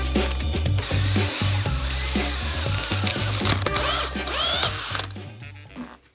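Power drill boring a hole in a custom rear gearbox mount for a Toyota Starlet 2ZZ engine swap, a loud close whine with pitch shifting as the bit bites, running for several seconds before spinning down.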